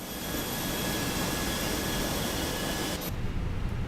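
Airbus A320 jet engine starting up in Microsoft Flight Simulator 2024, a steady close roar with a high thin whine that cuts off abruptly near the end, with no voices.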